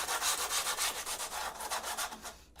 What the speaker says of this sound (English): you want to go in there with your sanding